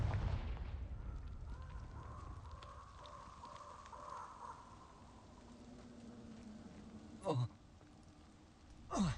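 In Hogwarts Legacy, the Confringo blasting spell goes off as two short, sharp explosive bursts near the end, after a quiet stretch of faint magical tones and background game ambience.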